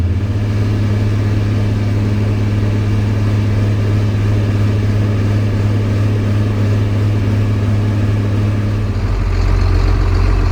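A tractor engine runs steadily in wet weather, a loud, close, constant low rumble and drone that holds throughout and deepens slightly near the end, with no talk.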